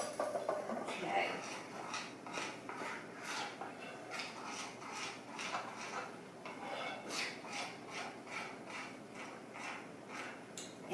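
A spoon scrapes and clinks around a pot of fudge mixture with vanilla, giving a run of soft rhythmic strokes against the metal, faint and close, with someone talking now and then.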